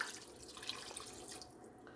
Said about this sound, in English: Okay, I'm adding in my water.